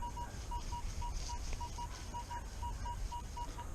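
Minelab Equinox 800 metal detector sounding a series of short, evenly pitched beeps as it passes over a target on a beach, faint over a steady hiss of background noise.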